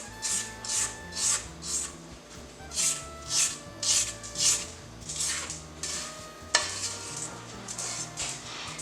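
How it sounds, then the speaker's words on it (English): A spatula scrapes around a mixing bowl of cookie dough in a series of rhythmic, raspy strokes, about a dozen close swipes, with no talking. "Let's go ahead and scrape down our bowl."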